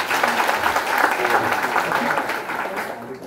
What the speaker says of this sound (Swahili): Tupigie Deno makofi.